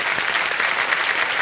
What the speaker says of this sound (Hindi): तालियों के साथ इनका हम अभिनंदन करते हैं।